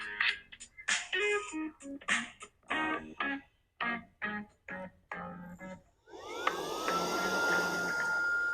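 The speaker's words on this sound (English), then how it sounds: "the SAKER 3-in-1 cordless vacuum cleaner" A SAKER 3-in-1 cordless handheld vacuum cleaner with a HEPA filter runs for the last couple of seconds as a steady, close whirring whine, following a stretch of talk.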